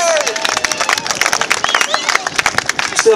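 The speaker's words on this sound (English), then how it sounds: "give her an extra big round of applause" Audience at a country fair martial arts demonstration clapping for a performer's birthday, a close, busy patter of hand claps mixed with crowd chatter and a few shouts.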